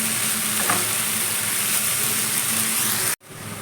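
Garlic tempering sizzles steadily with koyyakura stems in a hot pan as they are stirred. The frying hiss stays loud and continuous, then cuts out abruptly near the end before resuming.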